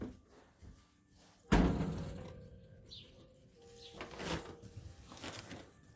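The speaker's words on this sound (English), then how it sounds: "These doors, these triple lock doors, which are crazy." A heavy triple-lock door shuts with a loud thud and metallic clunk, followed by faint mechanical rattling and a second softer knock in a quiet room.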